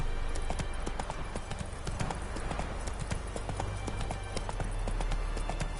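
Roach the horse gallops in The Witcher 3, hooves pounding out a rapid, steady clip-clop that carries on without a break from start to finish.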